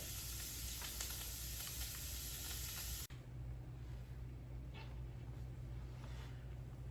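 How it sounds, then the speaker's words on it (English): Vegetables sautéing in a pot for cabbage soup, a soft steady sizzle and hiss with faint stirring clicks, quiet and close, with a brief clunk midway after which the sizzle drops lower. "we're gonna saute these"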